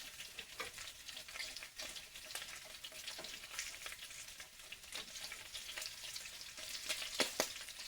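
Bacon fries in a pan with a steady close sizzle and scattered sharp pops of grease throughout, with a couple of louder pops near the end and no talk.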